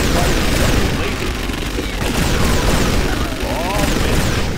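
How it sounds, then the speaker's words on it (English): Laser cannon fire in a Command & Conquer Generals Zero Hour battle, part of a dense, loud, continuous barrage of booming bursts and explosions, with unit voice lines heard over the din. "Laser cannon targeting."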